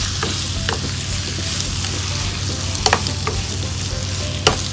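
Chopped tomatoes go into onions already frying in a pan for chicken dum biryani, and a steady, loud sizzle runs throughout with a few sharp crackles and pops and no talking.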